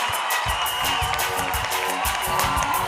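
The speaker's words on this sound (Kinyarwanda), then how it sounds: "Ndungutse Claude, amashyi menshi" An audience in a church youth event hall applauds and cheers after a category winner is announced, a dense, continuous wash of clapping and whoops from a large crowd.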